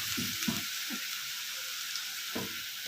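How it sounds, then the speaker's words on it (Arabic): Garlic and dried coriander sizzling in oil in a pan for a sauce, a steady soft frying hiss with faint stirring clinks and scrapes, no talk. "ما تحمريش التومه يا رب تشمي بس ريحه التوم"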